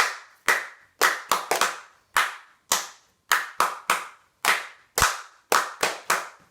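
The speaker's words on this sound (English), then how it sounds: "No letters, we're gonna clap everything" Sharp, close hand claps ring out one at a time and in quick pairs and triplets, following a song's rhythm at a family storytime with a storyteller and children. There is clear silence between the claps.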